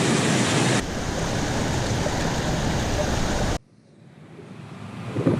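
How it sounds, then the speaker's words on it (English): Creek water rushing around a small dam beside a washed-out road near the Cleopatra Mine, a loud, broad, steady roar that cuts off abruptly to a quieter wash that slowly rises again. "help channel the water flow around that where it's not quite as fast"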